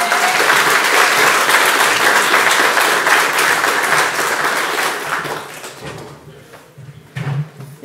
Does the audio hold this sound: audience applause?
yes